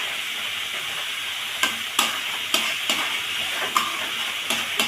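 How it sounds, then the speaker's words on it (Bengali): Gourd peel with turmeric and salt being stirred in a pan, a soft continuous sizzle broken by about eight sharp spatula scrapes and knocks at an irregular rhythm, close by and with no talking. "সুন্দর করে একটু নেড়ে চেড়ে নেব"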